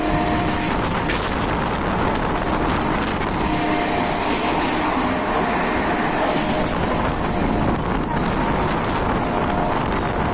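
A local train speeds through Dum Dum station without stopping, giving a continuous loud rushing roar with heavy wind buffeting that holds steady throughout.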